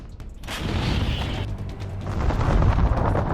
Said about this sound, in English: a huge explosion hurls fragments in all directions